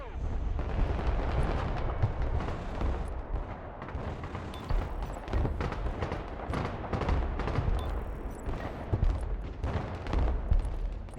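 Artillery in Broken Arrow fires napalm shells in a dense, continuous barrage of booming blasts and rumbling impacts that stay loud throughout, with someone talking over the gunfire.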